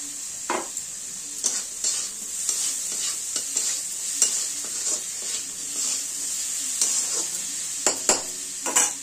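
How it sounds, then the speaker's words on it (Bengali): Chopped tomato stirred into a sizzling pan while making chire polao (flattened rice pilaf), a steady close frying hiss broken by repeated scraping stir strokes, with no voices. "এই টমেটোটা, কুচনো করা টমেটো একটা লাগবে, এই টমেটোটা দিয়ে দেওয়া হবে।"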